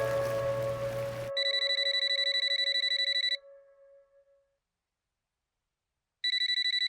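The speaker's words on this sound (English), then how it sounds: "The phone rings." A telephone rings with a steady electronic trill that goes on for about two seconds, falls silent, then starts again, following a short burst of background sound.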